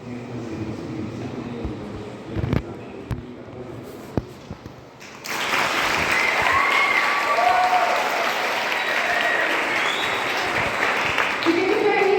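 A Catholic church congregation in Coronel Fabriciano applauds seminarians at a youth jubilee vocational month opening. A quieter stretch with a voice and a few sharp knocks gives way to sudden, sustained loud clapping that fills the hall.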